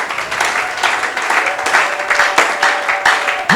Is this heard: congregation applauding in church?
yes